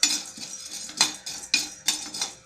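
Chana dal and urad dal roast in a pan while being stirred, giving rhythmic scraping and rattling clinks about every half second, close and clear.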